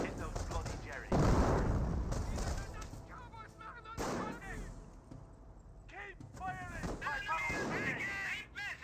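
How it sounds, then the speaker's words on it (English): Artillery fire pounding a mortar half-track in the video game Company of Heroes, with repeated booms and crackling shots through the battle while a commentator talks over it steadily. "Mortar half-track is seeing some fire"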